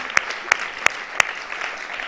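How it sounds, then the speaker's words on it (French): A few sharp handclaps ring out at a church service, four distinct, evenly spaced claps over a soft room hum. "Est-ce qu'on peut applaudir tous ceux qui nous rejoignent maintenant ou en différé?"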